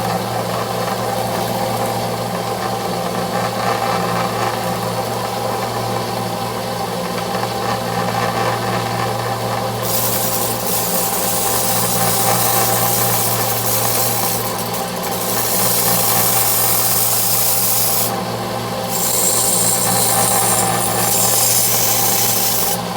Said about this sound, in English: now I'm going to be sanding it down